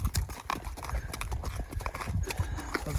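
Hank, a young colt out on an evening ride after rain, clip-clops with irregular close hoofbeats, punctuated by creaks and shuffles of tack and movement, with no talking.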